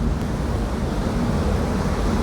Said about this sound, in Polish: Zaraz mi telefon wyleci, taki mocny wiatr jest.